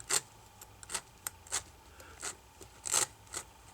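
A cutter blade scraping glue off an iPad 2 frame, a series of short, raspy scrapes repeated at an uneven pace, close but fairly quiet.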